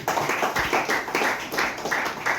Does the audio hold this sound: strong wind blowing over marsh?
no